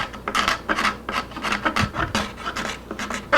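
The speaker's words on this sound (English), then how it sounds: "And then I come in there with a scraper and just try to clean some of this up a bit" A hand scraper rasps against glue residue inside the wooden body of a Martin 00 style acoustic guitar, a quick series of close, scratchy strokes repeating in an uneven rhythm with no voices.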